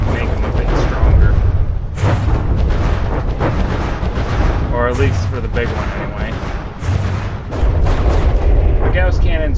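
Gauss cannons fire in the naval combat game From the Depths: loud, booming shots with heavy low-end thuds land repeatedly in irregular bursts, while someone talks over the barrage.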